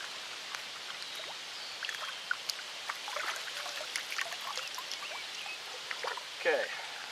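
Water trickles and drips steadily from a soaked Millbank filter bag, a faint, continuous splashing with scattered droplet ticks.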